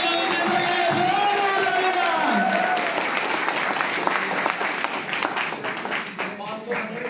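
Audience applause at a business seminar swells loud and dense, then thins into scattered claps as a voice begins talking over it.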